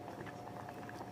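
Ration rice simmering in a pot of water for ragi mudda, a soft continuous bubbling and burble at low volume with no voices.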